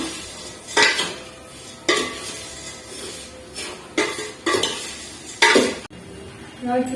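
Vermicelli stirred and roasted in oil and ghee in a metal pan, with repeated scraping and clinking strokes of a spoon against the pan in an irregular rhythm, close and moderately loud, no talking.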